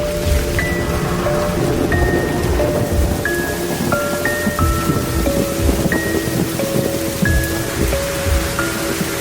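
Steady rain patters close by while low thunder rumbles underneath; birds chirp intermittently in the background.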